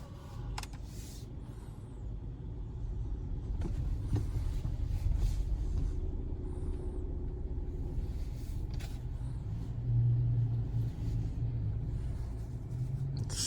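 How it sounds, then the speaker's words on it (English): Oncoming road traffic passing a car on a food delivery run; a low, steady rumble of engines and tires under the cabin hum, swelling gently as vehicles go by, with no talking. "Oncoming traffic."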